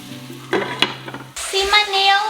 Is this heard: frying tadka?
yes